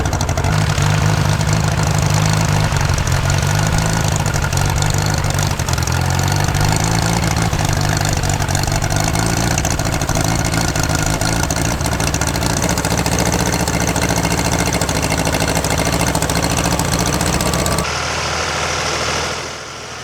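A B&B President horticultural tractor, built between 1950 and 1956, runs at a working day in Carrington, its engine throbbing loud and steady throughout before easing slightly at the end.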